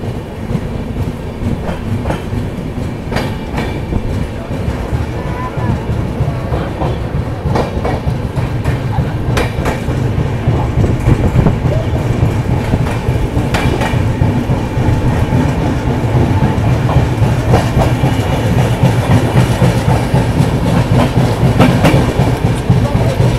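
Bihar Sampark Kranti express running from New Delhi to Darbhanga, heard from inside a coach as a steady loud rumble with rhythmic clickety-clack of wheels over rail joints throughout.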